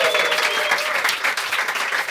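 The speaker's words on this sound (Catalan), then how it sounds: "Un aplaudiment per la Fede!" Lively applause for Fede from an audience at a Barcelona gay and queer venue, dense clapping mixed with a few cheers and whistles throughout.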